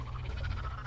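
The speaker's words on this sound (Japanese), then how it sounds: "あと、カエルの鳴き声、 プロ級やな。" A brief burst of fast, rattling frog croaks from a video game set in a dark building at night, steady and moderately loud over a low hum.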